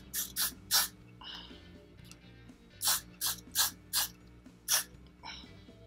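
Repeated short, sharp hisses from a pump spray bottle of lace wig adhesive, nearby, coming in quick bursts of two or three with pauses between.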